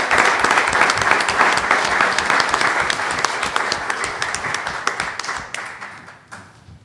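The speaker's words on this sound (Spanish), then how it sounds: "Un aplauso, por favor, para don Jorge Salazar Salazar." Audience applause at a Spanish-language genealogy presentation: sustained, dense clapping from a crowd, loud and steady for several seconds before thinning out and fading near the end.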